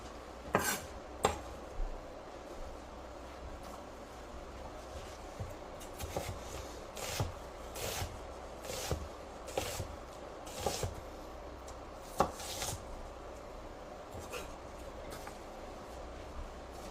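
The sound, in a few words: knife quickly dicing vegetables on a board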